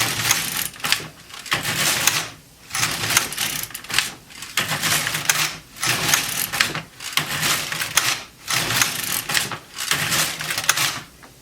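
An LK150 knitting machine carriage is pushed back and forth across the needles in work, a loud rhythmic clattering rasp in about seven even passes, each stroke separated by a short pause, with no talking.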